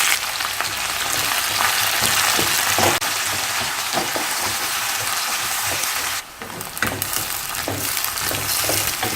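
Ghee sizzles loudly with cinnamon, fennel, green chillies and onion frying for a baby potato biryani, a dense, close crackle that runs almost unbroken, dipping briefly once before resuming, with no voices.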